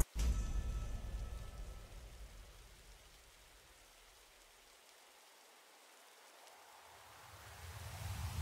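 Rain weather in the Sols RNG video game, a soft continuous patter of rain on surfaces, fading down in the middle and swelling again toward the end.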